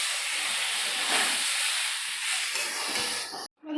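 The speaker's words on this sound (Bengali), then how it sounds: "এই লঙ্কাটা দিলাম, দিয়ে দিলাম জল" Water tipped into a hot pan holding chilli sets off a loud, steady steam hiss that roars for about three seconds, then cuts off abruptly.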